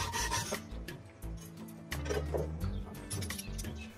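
A rasp scrapes over a soft Ytong aerated concrete block as it is carved into a penguin sculpture, giving close, steady grinding strokes in a repeating back-and-forth rhythm.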